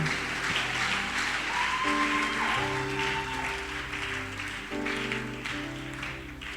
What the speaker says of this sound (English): Let's give him a round of applause. Keep it going, keep it going.